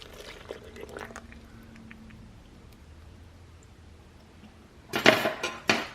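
Powder and milk poured into the bowl of a stand mixer while making a Dr. Oetker raspberry cream dessert, heard as soft scattered rustles and light pattering, then a louder burst of splashing pour near the end, close by.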